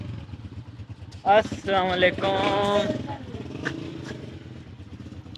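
A motorcycle rolls up and idles nearby at a roadside shop, its engine rumbling under the greetings and chatter of several men.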